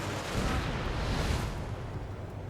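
Anti-aircraft fire in Ace Combat 7 near radar vehicles, a thick continuous rumble of rapid booming bursts, loud and unbroken throughout.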